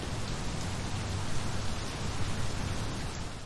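Steady rain falls continuously, a dense even hiss of drops spread across the whole range with no pauses, moderately loud and uniform throughout, with no voices present.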